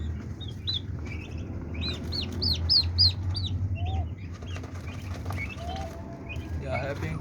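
Three-week-old young turkeys chirping and clucking close by, a cluster of high peeping calls in the middle over faint pecking and background noise.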